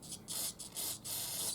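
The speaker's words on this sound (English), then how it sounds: "So get a little carb cleaner, and we're going to spray it on it just to see" Carb cleaner hisses from an aerosol can onto a Hitachi carburetor from a first-generation Yamaha Virago, several short close bursts of spray in quick succession.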